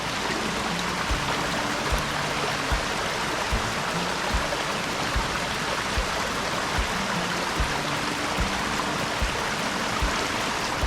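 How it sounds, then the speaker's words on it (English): A small waterfall on a Tennessee creek pours in a steady, dense rush of splashing water, loud and close, with faint periodic ticking underneath throughout. "I'm gonna let you guys enjoy this little waterfall while I go in here and try to get my bait unhung"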